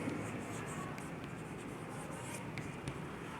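A pen scratching out an answer by hand during a sixth-grade maths exercise, steady faint scribbling with a few sharper taps, close up over a constant hiss.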